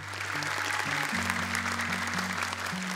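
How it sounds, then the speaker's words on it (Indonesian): Audience applause at a televised Indonesian Quran memorization competition, steady and dense for the full stretch, with sustained musical tones running underneath. "tepuk tangan buat Abi"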